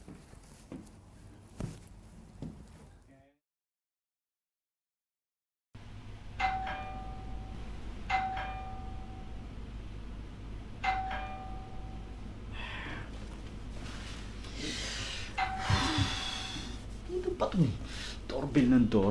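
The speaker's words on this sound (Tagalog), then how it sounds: "Doorbell ng doorbell." Doorbell chiming repeatedly indoors, several separate rings spaced a second or two apart after a stretch of silence, moderately loud against a quiet room, with people talking at the start and end.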